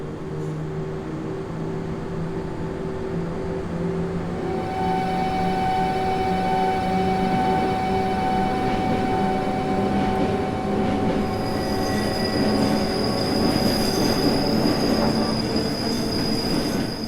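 An electric locomotive on the Albula Line in Train Simulator, a GE 4/4 Mark III, runs with its traction motors whining in sustained steady tones over rolling rail noise and occasional wheel squeal, loud and continuous.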